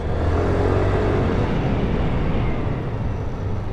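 A SYM Jet 4 RX scooter engine runs in a smooth, steady low drone, fairly loud and close, with no speech over it.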